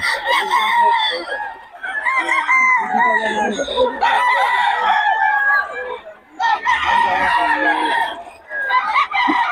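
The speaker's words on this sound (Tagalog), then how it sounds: "Susulit yung mga manok ni Boss Tony" Chickens and roosters at a Bocaue livestock market, including gamecocks, crowing and clucking almost continuously at close range in a busy chorus, with a short lull near the middle.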